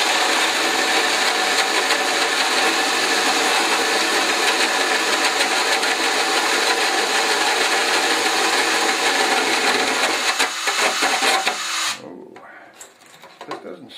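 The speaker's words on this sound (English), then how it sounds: "This is a drum sander, so we're going to give this a shot cleaning out the wheel well here" Power drum sander whirs and grinds steadily as it cleans out the wheel well of a Tamiya TB04 LaFerrari RC car body, loud and continuous for most of the stretch before cutting off into quiet handling noises near the end.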